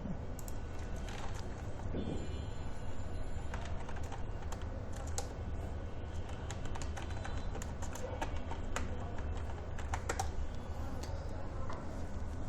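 Steady rapid clicking of a computer keyboard as a search is typed into Google, continuous close key taps over a constant low background hum for the whole stretch.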